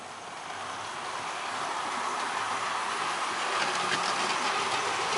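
A Hornby City of Bristol Duchess-class model locomotive hauls a five-coach rake around the track, giving a steady, close rolling rumble with faint rhythmic wheel clatter that holds even and unbroken throughout, with no voices.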